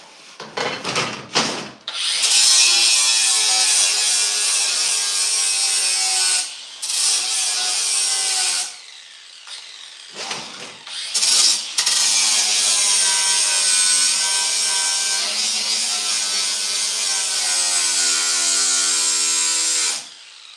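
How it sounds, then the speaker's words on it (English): Sandpaper rubs back and forth across the freshly cut edges of a wooden piece, a raspy, scratchy sound in long loud strokes broken by short pauses, close and clear with no talking. "I need to sand these edges down."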